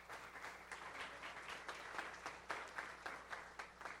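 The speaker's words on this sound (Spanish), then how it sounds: "por favor, un aplauso" Audience applause at a panel event marking the International Day for Universal Access to Information, steady clapping from a moderately distant crowd with no talk over it.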